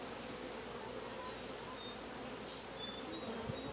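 A honeybee colony in a top bar hive gives off a dense, steady buzzing at close range, with a few individual bees droning past now and then.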